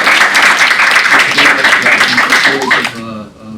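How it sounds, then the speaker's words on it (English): Audience applause for a refugee speaker at a World Refugee Day event in DC: a dense, steady round of clapping that fills the room, with voices mixed in, before it cuts off and tails away near the end. "just give her a quick round of applause for her story"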